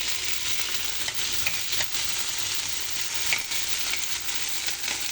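Flat beans frying in hot oil make a continuous, dense sizzle close by, broken now and then by brief crackles. No voices are heard.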